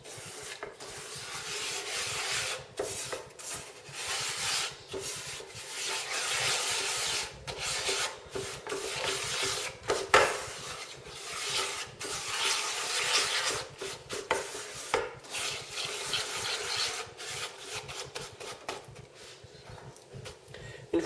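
Sugar and water for berlingot candy are stirred in a pan before heating, giving a continuous gritty scraping and rubbing in rhythmic strokes, close and moderately loud with no talk.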